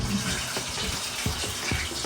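Tap water runs steadily into a sink or basin, a continuous broadband splashing stream with a few soft clunks underneath, close by and with no talking.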